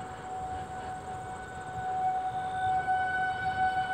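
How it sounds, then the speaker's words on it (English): A steady, distant civil defense tornado warning siren wails over a low rumble of wind, its rotating horn swelling slightly louder partway through. "they'll kick in the sirens to warn people that there's potential tornadoes"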